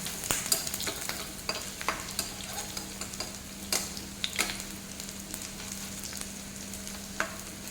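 Pumpkin flower fritters fry in a pan over low flame, a steady soft sizzle broken by frequent sharp crackles and pops and a faint hum, with no speech.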